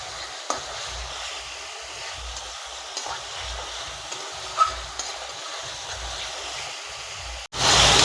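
Spices stir-fry in a pan for a soybean and potato curry, a soft, even sizzle with occasional light clinks of a spoon, ending in a sudden loud burst of hissing.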